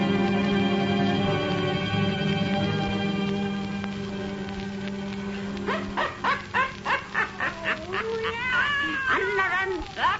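A black cat meows in an old witch tale radio drama set in Salem. After a sustained tone with background sound, a run of rhythmic, yowling meows comes close and loud, ending in drawn-out wails.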